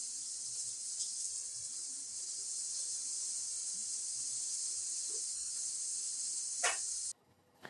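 Chicken for Greek chicken pita fries in a pan, giving a steady, bright sizzling hiss that holds evenly for several seconds before cutting off abruptly near the end.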